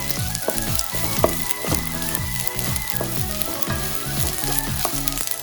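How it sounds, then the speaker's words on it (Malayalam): Broken wheat roasting in a pan, steady close sizzling with a layer of harmonic music throughout and occasional scraping stirs. "നന്നായിട്ടൊന്ന് വറുത്ത് കൊടുക്കുന്നത്."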